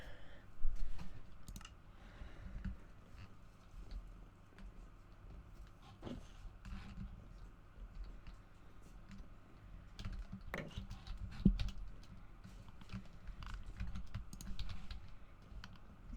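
Keyboard keys and mouse buttons click while a video game is played, a continuous quiet patter of irregular taps with occasional sharper clicks, close and without talk.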